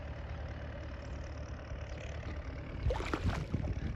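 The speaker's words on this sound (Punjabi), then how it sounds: "ਔਰ ਟਰੈਕਟਰ ਕੱਦੂ ਕਰੀ ਜਾਂਦਾ" A tractor engine runs steadily at a distance while puddling a paddy field, a low continuous drone that grows slightly louder and rougher near the end, with no talking.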